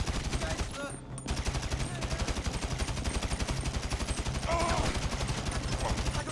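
Rapid gunfire from Grand Theft Auto V gameplay, a dense, steady stream of shots rattling through the whole stretch with game effects layered over it and no voices, loud and close throughout.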